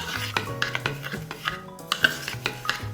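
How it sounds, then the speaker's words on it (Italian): A utensil stirs milk into a no-bake coffee and white chocolate cheesecake base mixture, giving close, uneven scraping and light clinks against the bowl in a loose rhythm, with no talking. "Aggiungo il latte, mescolo"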